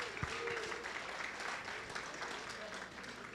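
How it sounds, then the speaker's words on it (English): A church congregation at a Sunday morning service applauds a long-married couple, a quiet, distant patter of many hands that holds steady throughout, with faint room murmur underneath. "A round of applause for them."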